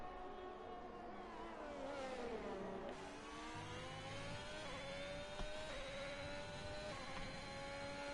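Race car engine on a hot lap in a sim racing game at the Austria track, a sustained whining drone with rising and falling pitch through shifts, steady and fairly close throughout.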